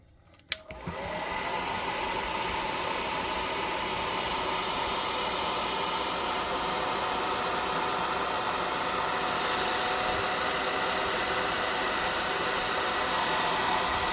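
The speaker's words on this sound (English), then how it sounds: "I'm just going to dry those off with the hot air gun real quick." A hot air gun blows steadily on freshly clear-coated model terrain trees, a loud, close, continuous whooshing hiss that starts abruptly and holds unbroken throughout.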